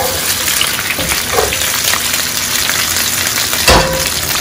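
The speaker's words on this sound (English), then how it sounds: "I'm about to take my cooked costillitas and transfer them into a bigger pot." Cooked pork ribs (costillitas) sizzling and crackling as they are moved into a bigger pot, a steady dense fry with a sharp clatter near the end, close and fairly loud.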